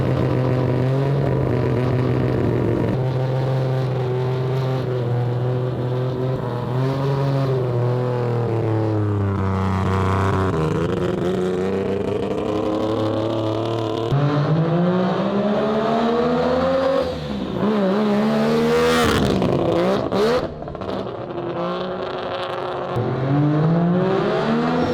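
A three-rotor rotary engine car pulls away and drives around the block, its loud buzzing exhaust rising and falling through gear changes and revs, close and continuous throughout.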